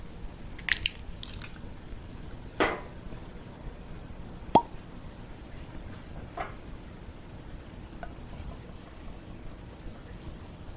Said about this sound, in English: So let's go ahead and pop the cork and see how this looks in the glass.